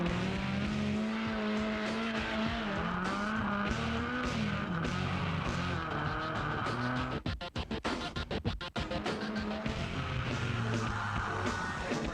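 A drift car at a drifting event, heard from inside on a passenger ride, its engine roaring loudly and continuously with wavering pitch, as bursts of tyre squeal and skidding grit come through near the end.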